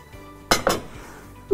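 A metal pot is set down on a stovetop while Turkish tas kebab is being started, giving two quick, close clanks in succession followed by another knock near the end, with no talk.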